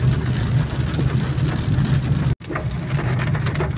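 Steady rain falls as a dense, loud, even hiss with a low rumble beneath, cut off by a momentary dropout before resuming just as heavily; no voices are heard.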